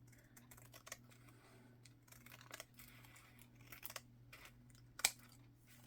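Cardboard from a cereal box being cut, probably with scissors, heard as a quiet, close series of irregular snips and crinkles, with one sharper snap near the end.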